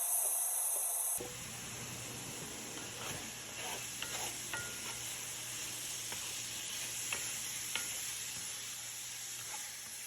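Food fries in a pan with a steady, soft hiss and crackle, alongside light stirring taps; it starts abruptly after a brief moment of different background noise.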